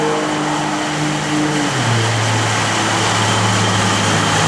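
A 1963 Buick Riviera engine idles with a steady, low rumble, smooth and even in tone with a faint broadband hiss, close by and unbroken throughout.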